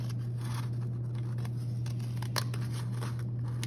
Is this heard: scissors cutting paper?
yes